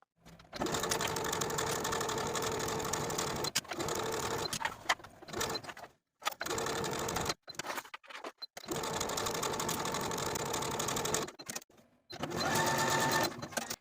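Sewing machine running a curved dress skirt seam, steady motor whirr in long bursts separated by short stops and pauses, close and fairly quiet with no talking.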